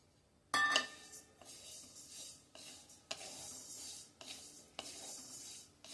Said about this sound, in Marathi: आता आपण जिरे भाजून घेणार आहोत.